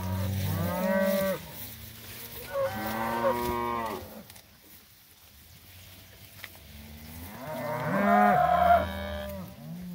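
A cattle herd grazing in a cocklebur field on a morning outdoors lets out several long, loud moos from more than one animal, with quieter gaps between calls.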